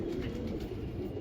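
Pigeons cooing in a short, steady stretch of soft, repeated low coos set against a constant background hum.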